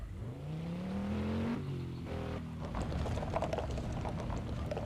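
A car's engine in a video game rises steadily in pitch as it accelerates, then settles into a continuous revving drone with light clicking and tapping over it.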